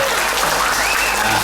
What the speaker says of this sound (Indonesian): Sekarang ada tepuk tangan